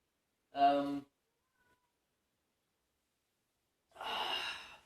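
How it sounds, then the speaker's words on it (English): Cat wanting to be let in, two separate cries: a short, tonal, close meow near the start, then after a long silence a rougher, breathier, longer call. "Bloody cat wanting to get let in."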